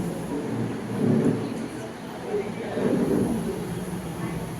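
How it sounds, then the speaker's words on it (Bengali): Low, rolling thunder rumbles outside as a sound effect in a Bengali stage drama, swelling in two broad waves over a steady dark background with no talk. "বাইরে মেঘের গর্জন শোনা যাচ্ছে।"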